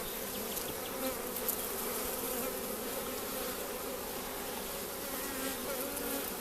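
Honeybees buzzing around an open hive during an inspection, a dense continuous hum of many insects close by and alone.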